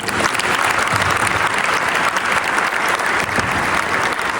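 A conference audience at a regional urban forestry gathering applauds sponsors and exhibitors, a dense, steady wash of many hands clapping that holds at full strength throughout with no voices on top.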